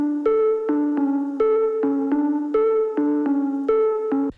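A synth main riff played on the Teletone Scarbo with its Cocoon preset: sustained, harmonically rich tones that change pitch in a steady repeating pattern, with a clear attack on each note, loud and without voices.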